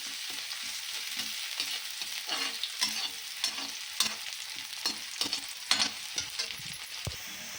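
Onions browning in a pan, a steady sizzle broken by repeated spatula scrapes and taps against the pan in an uneven rhythm, fairly close; no voices.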